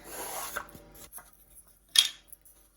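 A sharp blade scores risen bread rolls for bolillos or banh mi, producing a few quiet, short rasping strokes separated by near silence in a calm kitchen.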